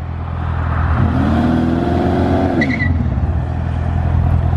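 A 650 hp Corvette C7 Z06 engine revs hard during a burnout, its loud, close roar climbing in pitch, holding at the top, then dropping back to a rumble, with no voices over it.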